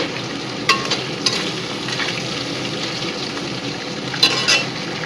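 Oil sizzles steadily in a pan after frying katla fish heads, a constant crackling hiss broken by a few sharp clinks of a utensil.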